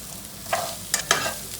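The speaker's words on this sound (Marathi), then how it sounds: "कढीपत्ता टाकूया." Curry leaves are dropped into hot oil with cumin for a homemade chicken pulao, setting off a low background sizzle with three short, crackling bursts close by and no talking.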